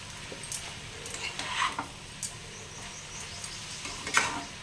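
Potato and pumpkin pieces being stirred while they fry in a pan for a Bengali aloo kumro bhaja, with soft irregular scraping strokes over a faint steady sizzle.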